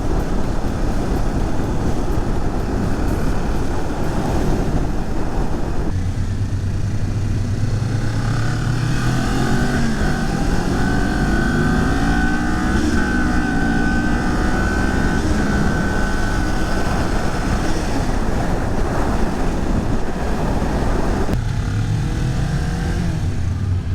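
A Kawasaki sport bike's engine roars steadily while riding, heard over constant loud wind buffeting, with the engine tone rising and shifting through the revs as the bike accelerates. No talking.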